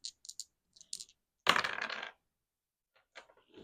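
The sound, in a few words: rolling two dice for a savings game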